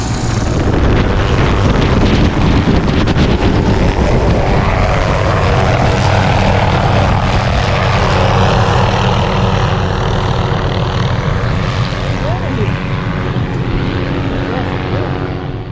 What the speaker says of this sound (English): Chopper's in!